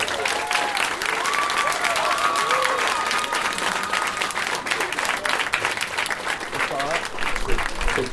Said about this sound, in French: On peut applaudir, s'il vous plaît, Benoît du groupe Empire.